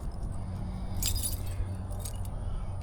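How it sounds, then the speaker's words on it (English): Keys jangle and clink near a flooded shop door, a short bright metallic rattle over a steady low rumble of background noise. "Get my keys out."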